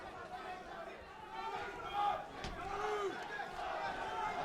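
Packed crowd at a UK MMA event, a continuous roar of chatter and shouting, fairly distant and steady, with a few louder swells and cries rising above the general din.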